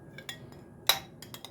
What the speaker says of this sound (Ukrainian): Оце гарненько все розмішаю і заправлю салат.